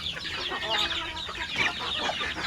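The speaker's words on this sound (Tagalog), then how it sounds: "Mga alaga na akong manok." Backyard chickens clucking nearby, a busy run of short overlapping clucks and calls with no talk over them.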